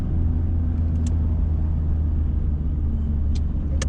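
A Ford Thunderbird Turbo Coupe cruises along, its low engine rumble and road noise steady and close from inside the cabin, with a couple of faint high clicks.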